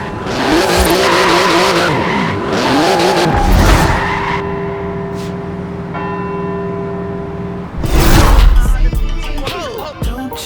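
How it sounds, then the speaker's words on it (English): A car in Forza Horizon 4 brakes hard on carbon ceramic brakes with loud tyre skidding and squeal over engine noise, easing off and then flaring up again in a second skid near the end. "Hard on those carbon ceramic brakes now."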